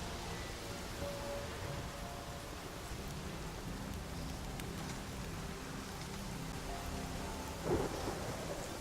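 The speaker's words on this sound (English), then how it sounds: "Look at that storm." Thunderstorm weather in The Witcher 3 gives constant heavy rain hiss with low rolling thunder beneath, steady and enveloping, with a sharper crack near the end and no talking.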